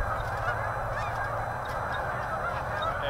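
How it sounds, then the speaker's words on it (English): A flock of geese honking overhead, a dense chorus of calls blending together as they pass, steady and fairly loud. "Bunch of geese are coming by, if you guys can hear them."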